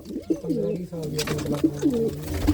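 Old pigeons kept as fancy birds coo in repeated soft, throaty phrases close by, one call after another over a low background hum.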